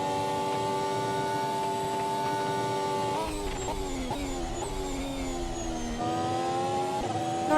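A race car engine in a racing video game lap at Japan, a steady high-pitched whine that shifts pitch with gear changes and lifts through corners, continuous and close.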